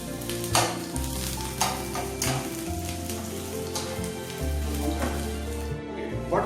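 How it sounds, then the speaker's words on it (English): Capsicum and onions frying in a hot pan, a steady close sizzle with scattered stirring scrapes and clatters throughout. "Now we are frying it, capsicum and onions."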